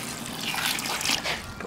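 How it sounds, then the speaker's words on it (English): Water gushes steadily into a mold for homemade DIY dumbbells and a barbell, a continuous close pour with a slight rise in flow midway, no talking. "now we're gonna start pouring the water in"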